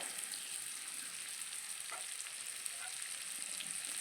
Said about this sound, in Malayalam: ഇതങ്ങനെ വറുത്തെടുക്കട്ടെ